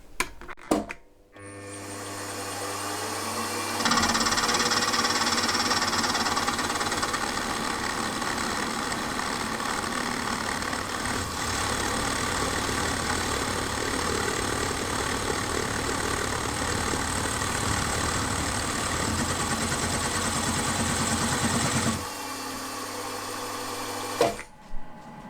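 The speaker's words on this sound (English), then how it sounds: "when you're doing these downward cuts, these plunge cuts, just to maybe cut half the width of the actual cutter." A milling machine making downward plunge cuts on a flywheel for a Jerry Howell V-twin model engine, a steady mechanical whir and grinding hum that starts abruptly, runs continuously about eighteen seconds, then stops, with faint clicks around it.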